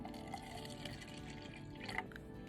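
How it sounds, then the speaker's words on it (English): Tarn-X tarnish remover poured into a cup for cleaning jewellery, a thin steady liquid trickle with faint drips and splashes, close and quiet, no speech. "pour some into the cup so that we can start polishing our jewels"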